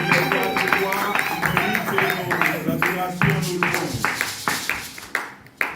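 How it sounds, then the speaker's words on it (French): A church congregation claps in a steady, rhythmic beat for several seconds, close and fairly loud, with voices and music-like tones underneath. "S'il y a la joie, nous applaudissons le Seigneur."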